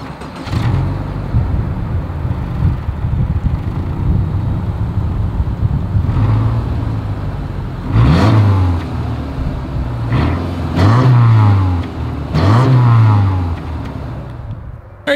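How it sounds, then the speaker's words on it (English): A 2023 Subaru Forester SUV's exhaust as the engine idles with a steady low rumble, then revs sharply several times in quick succession, each blip rising and falling, heard close up with no talking. "As always, here is that exhaust clip."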